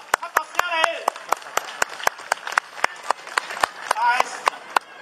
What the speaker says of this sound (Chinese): 大家用热烈掌声来鼓励一下。